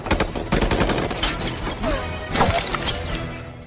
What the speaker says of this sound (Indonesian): Ketika pasukan tersebut hendak menembak, Whiskey yang mengetahui hal tersebut